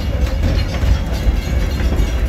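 An amusement park train at Six Flags Over Texas rolls along its track on a rainy day, a loud, steady rumble with faint rhythmic clatter throughout.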